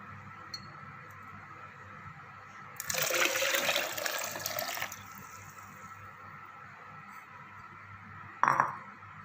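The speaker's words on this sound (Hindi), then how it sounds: "और इसके साथ ही हम इसमें ऐड करते हैं पानी।" Water pours into a blender jar of falsa fruit and sugar syrup in a short splashing rush of about two seconds, followed by a quiet pause and a sharp glassy clink near the end.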